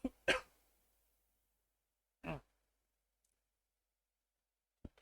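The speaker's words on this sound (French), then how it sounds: "Attends, je vais tousser là." A couple of short, sharp coughs and a throat clear, close to the microphone, separated by silence.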